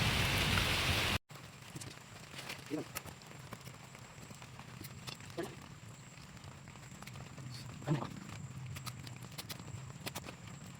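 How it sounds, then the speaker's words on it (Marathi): Steady rain falling on a surface, a soft continuous patter with occasional louder drops, after a brief loud burst at the start. "पाऊस आलाय हो"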